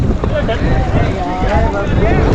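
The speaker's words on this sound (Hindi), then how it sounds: "मस्त गंगा जी की जो हवा होती है ना वो चल रही है" Steady breeze buffets the microphone on a river raft on the Ganga near Rishikesh, a constant rushing wind with water and boat noise under it, while voices talk over it.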